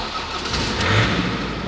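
A van's engine, left sitting for four months, turns over and catches, a steady mid-pitched motor rumble swelling slightly as it starts, close and fairly loud with no talk.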